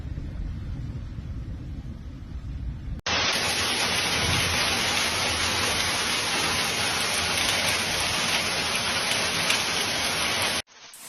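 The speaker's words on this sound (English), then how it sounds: "Lightning from a thunderstorm shone in the evening sky." Heavy thunderstorm rain pours down during flooding in Petersdorf, Brandenburg, Germany, a dense, loud, steady hiss that starts abruptly after a quieter rumbling opening and then cuts off near the end.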